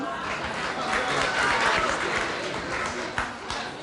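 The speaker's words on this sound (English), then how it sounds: "Can you see how the clapping was delayed and there was like sighs and stuff and just discomfort?" A television studio audience gives hesitant, scattered applause with murmurs and crowd noise mixed in, a moderate, continuous wash of clapping.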